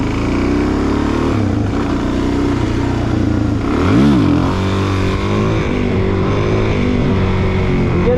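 A Suzuki DRZ400SM supermoto engine drones loud and steady with a brief rising rev surge midway, as during a wheelie, continuous throughout with no talk.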